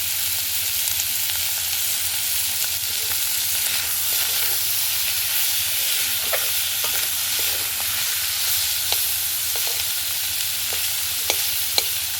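Fish fat frying in a pan and releasing its oil: a steady, close sizzle that carries on without a break, with faint stirring clicks and no talking.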